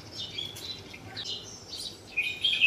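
Yellow laughingthrushes, long-tailed cage birds, give a few high chirping calls and short whistled phrases, fairly faint at first and growing louder toward the end, with no talk.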